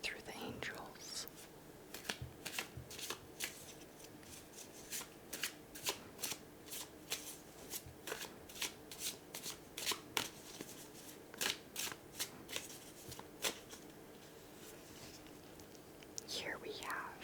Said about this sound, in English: To start, we will draw an angel oracle card